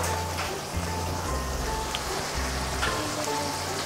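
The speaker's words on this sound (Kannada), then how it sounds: "ಮಸಾಲ ಸ್ವಲ್ಪ ಫ್ರೈ ಆಗಬೇಕು" Ground masala frying in a pan for cauliflower palya gives a steady crackling sizzle with a low hum beneath, moderately loud and unbroken throughout.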